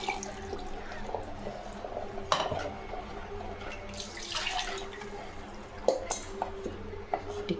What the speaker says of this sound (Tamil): நம்ம ஜாரு கழுவி தண்ணி ஊற்றிக்கலாம்.